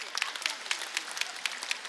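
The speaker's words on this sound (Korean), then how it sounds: "박수 좀 쳐줘요" Applause at a church evangelism rally, quick sharp hand claps in a steady rhythmic pattern, bright and moderately faint, with no speech over it.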